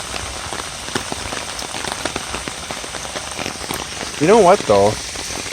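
Heavy rain patters steadily on surfaces around a property with city culverts, a dense drumming with scattered louder drops, while someone speaks briefly near the end.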